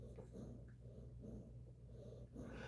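Close, faint breathing and low snorts from a dog in a breeder's yard, rhythmic pulses of air with a slight growling rumble underneath.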